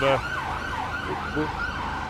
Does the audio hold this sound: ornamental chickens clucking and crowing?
no